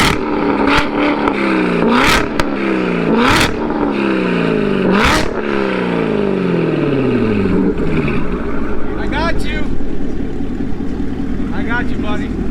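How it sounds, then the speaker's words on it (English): Two C7 Corvettes with aftermarket exhausts, one AWE and one Corsa Extreme, revving in a rev-off, loud close bursts and rising, falling revs in quick succession, with people talking over them. "We're gonna rev off."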